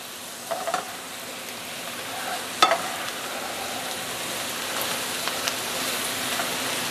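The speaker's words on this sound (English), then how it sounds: "Now the bacon that we cooked earlier, we took out and put a rough chop on, and we're going to just mix that right back in there" Chopped cooked bacon gets stirred into a pot of corned beef and cabbage, giving a soft steady sizzle with a few brief scraping clinks of the spoon, close and fairly quiet.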